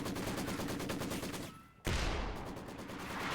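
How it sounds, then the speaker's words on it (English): Heavy machine gun fire in the Company of Heroes video game: rapid, rhythmic bursts of loud automatic fire, a brief lull, then a heavier blast and more sustained shooting with battle noise. "Heavy machine gun continuing to be a thorn in the German side."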